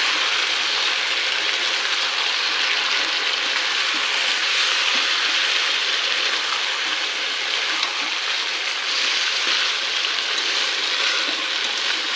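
Chicken cooks in a pan in a village kitchen, a loud, steady hiss and sizzle that runs unbroken throughout, close up and without speech.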